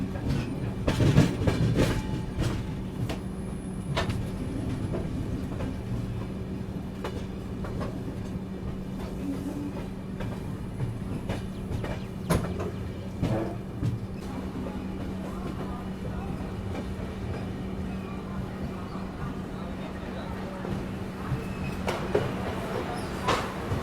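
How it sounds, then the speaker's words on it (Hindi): A passenger train rolls into New Bongaigaon Junction in the rain, giving a steady low rumble with intermittent wheel clicks and clanks that stay fairly faint throughout, with no voices. "बारिश के साथ अपनी ट्रेन बस एंटर हो रही है न्यू बोगईगांव जंक्शन की तरफ"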